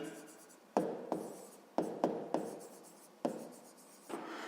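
Pen writing by hand on paper while working a fifth-grade math exercise, with soft scratchy strokes and several sharp taps as the pen lifts and lands, close and quiet.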